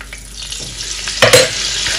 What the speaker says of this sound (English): The same wok, I'm going to add some little quantity of oil with some butter.